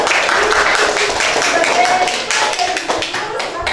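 Children in a classroom clapping for a group of classmates, brisk close handclaps of many small hands forming a loud, fairly continuous patter with scattered voices mixed in.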